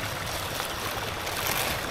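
Stream water flowing steadily in the countryside, where field crabs are gathered by hand, a constant broadband rush and trickle with no pauses, moderately close and fairly quiet.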